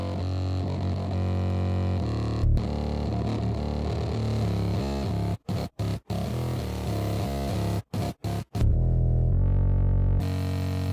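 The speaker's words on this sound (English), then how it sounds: "Let's add another type of distortion here." A harsh, heavily distorted synth tone from a distortion audio plugin drones loudly, with abrupt stutter cuts and gated breaks near the end.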